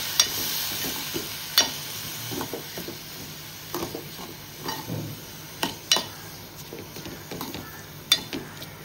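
Soaked, washed rice goes into a hot pan and is stirred, with soft sizzling under repeated scraping and clinking of a spoon against the pan.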